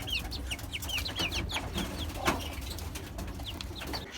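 Chickens cluck repeatedly in short bursts, with a few chirping calls mixed in, over a quiet background; moderately close, no talking.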